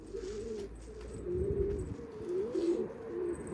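A pigeon coos in soft, low, throaty bursts, repeating several times close by against a quiet shop background.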